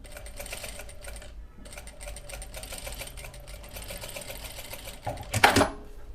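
A sewing machine runs a straight stitch in rapid, even bursts of needle clatter, pausing briefly partway through, then a louder clunk of handling near the end, close and fairly quiet.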